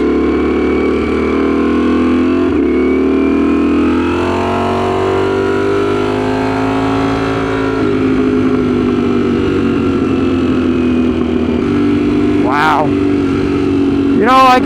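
A Ducati StreetFighter V4 motorcycle rides a back road, its engine droning steadily with rising and falling revs and gear changes, then two sharp revving bursts near the end, heard up close and loud.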